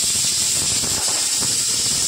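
Steady, loud hiss of steam escaping a pressure cooker as its lid is removed while cooking elephant foot yam and vegetables, continuous and close for the whole stretch with no talk.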